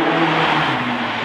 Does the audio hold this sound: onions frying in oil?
no